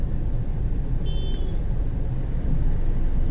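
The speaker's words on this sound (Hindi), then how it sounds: "यहाँ बहुत लंबा ट्रैफिक जाम लगा है" Road traffic in a long jam near Kanpur, with cars and buses stuck behind a broken-down bus. A loud, steady engine rumble runs throughout, and a brief horn toots once partway through.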